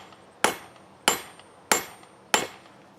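Four evenly spaced hammer strikes ring out on hot Damascus steel during a forge weld attempt, each a crisp, bright metallic clang that decays quickly, heard up close without any voices.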